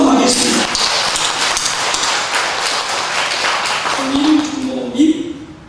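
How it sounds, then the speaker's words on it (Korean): Congregation clapping during a Sunday church service, a dense, rain-like patter of many hands that fills the room, with a voice speaking over the end of it. "박수 한번 하겠습니다."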